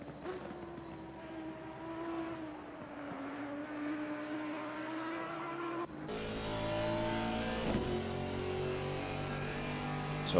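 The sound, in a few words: Ferrari race car engine, Assetto Corsa Competizione video game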